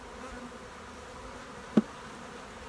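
A swarm of bees drones in a steady, faint buzzing hum throughout, with one brief sharp knock partway through, outdoors during swarm season in Florida.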